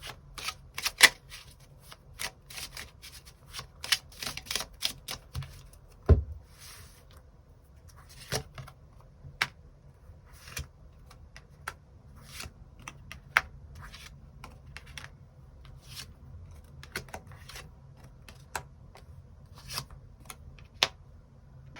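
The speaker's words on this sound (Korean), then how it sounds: "추가 카드 뽑아보도록 하겠습니다" Tarot cards shuffled and drawn for a weekly reading: quiet papery slides and small taps scattered across the clip, with one sharper knock near the middle and no talking.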